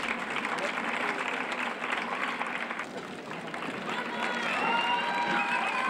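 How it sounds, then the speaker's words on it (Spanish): Crowd at a San Julián festival ceremony cheering and applauding as the festival queens receive their sashes, continuous clapping with shouts and whistles rising near the end, and voices mixed into the noise. "ante los gritos y los aplausos de los asistentes"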